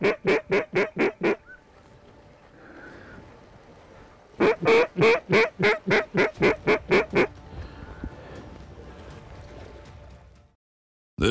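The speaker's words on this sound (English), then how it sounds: "That's a lot of ducks." Mallard ducks on a November timber hunt in South Dakota give two long runs of loud, rhythmic quacking calls close by, separated by quieter stretches of wingbeats and rustling.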